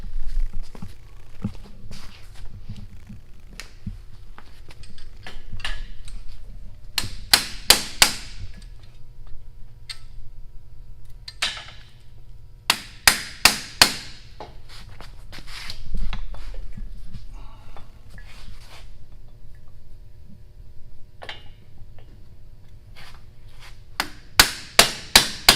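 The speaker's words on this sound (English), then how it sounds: "I'm gonna get it and hammer real quick." Sharp hammer strikes land in short bursts of several quick blows, separated by quieter stretches of low background noise, while installing coilover shocks.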